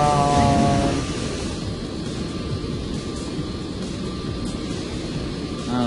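A plane's engine drones steadily in the Saints Row zombie game, a loud, continuous mechanical roar that runs throughout without a break, with a brief tonal whine near the start.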